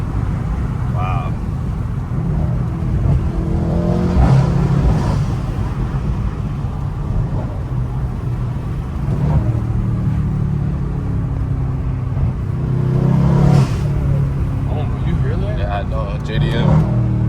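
A tuned Mercedes C63s AMG engine growls steadily from inside the car while driving, swelling in a couple of louder revving bursts, with wind rush and occupants talking and cheering over it.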